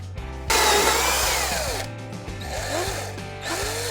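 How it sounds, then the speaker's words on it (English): A power drill whines loudly as it bores through plastic and aluminum RV trim, the pitch sagging and recovering under load, with short pauses between bursts. "I'm gonna lift this up and then continue drilling"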